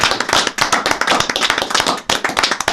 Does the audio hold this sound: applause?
yes